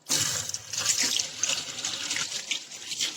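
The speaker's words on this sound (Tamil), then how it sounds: "இப்ப நம்ம லைட்டா வாஷ் பண்ணிட்டு வந்துடலாம்." Ripe tomatoes are rinsed under running tap water in a kitchen sink, a close, continuous splashing and trickling with small irregular bursts throughout.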